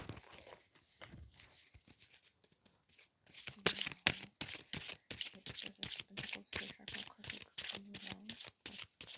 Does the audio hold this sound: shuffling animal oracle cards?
yes